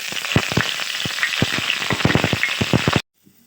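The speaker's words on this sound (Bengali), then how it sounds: "তেল হালকা গরম হয়ে গেলে আমি জিরা গুঁড়া দিয়ে দেব।" Cumin powder hits hot mustard oil in a pan and sizzles loudly and close, with dense crackling pops and spits that run steadily for about three seconds before cutting off abruptly.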